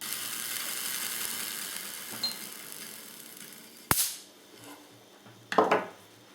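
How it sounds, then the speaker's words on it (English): A Victorian Wimshurst electrostatic machine is cranked with a soft mechanical whir, and sharp spark cracks snap out at intervals. One loud crack comes near the middle and a cluster of crackling discharges follows later, with no talking. "So, the Wimshurst machine. Beautiful little piece of Victorian technology."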